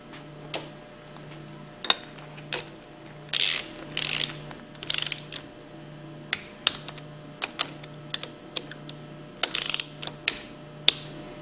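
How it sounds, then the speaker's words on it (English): A hand ratchet tightens the end cover bolts on a 2400 plunger pump held in a vise, giving a series of sharp, close clicking bursts separated by short pauses over a low steady hum. "Reinstall the end cover bolts and torque them between 100 and 110"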